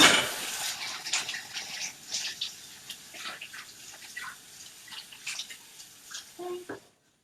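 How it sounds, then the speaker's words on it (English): Running tap water splashes as hands are rinsed at a kitchen sink, a steady broadband wash that fades out near the end, with a few faint drips and clinks. "And rinse my hands."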